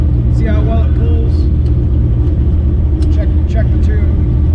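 A car with a new 8087 AGP billet-wheel turbo on a 363 stroker engine driving along, a loud steady engine rumble from inside the cabin with people talking over it.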